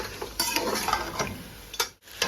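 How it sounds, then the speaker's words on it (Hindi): Mutton pieces being sautéed in a pot crackle and sizzle close by, broken by irregular stirring scrapes and a brief pause before the frying resumes. "गोश्त को हम थोड़ा सा भूनेंगे इसके अंदर"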